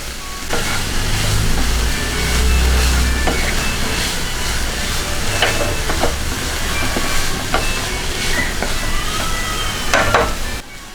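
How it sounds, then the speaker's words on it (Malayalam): A mixture for Malabar elanji filling sautés over a low flame, giving a steady soft sizzle with scattered scraping clicks of stirring throughout, fairly close and with no talk. "അപ്പം ചെറിയ തീയിലിട്ടിട്ട് ഇതൊന്ന് നന്നായിട്ട് വഴറ്റിയെടുക്കാം"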